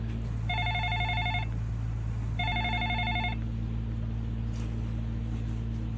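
A mobile phone ringtone sounds in two short bursts of electronic beeping over a steady low hum, moderately loud, with no talking.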